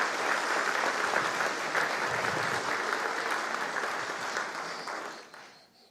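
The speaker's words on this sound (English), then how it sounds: "Would you give those people a round of applause?" An audience at a chamber of commerce breakfast claps in sustained applause, a dense wash of hands that holds steady and then tapers off toward the end.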